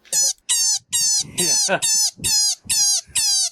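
A series of shrill, high-pitched synthetic shrieks from a skeleton decoration, like a screaming rabbit, repeated about eight times in quick succession, with a brief burst of mechanical noise in the middle.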